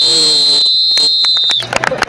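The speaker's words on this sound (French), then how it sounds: "Tu veux siffler ou pas le coup d'envoi?" A sustained referee whistle blown for the kickoff of a neighbourhood football final, one long steady shrill tone lasting over a second, then scattered claps and crowd noise.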